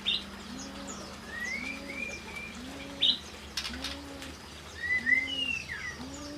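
Mixed songbirds in an aviary, including cucak ranting, jenggot, cucak biru and murai batu, chirp and whistle in short bright calls. Soft repeated low coos from a nearby dove run beneath them at a steady pace.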